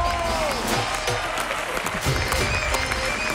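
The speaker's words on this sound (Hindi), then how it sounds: "एक बार बच्चों के लिए जोरदार तालियां हो जाए।" TV studio audience on a comedy show applauding for children, steady lively clapping and crowd noise with a few voices and music in the background throughout.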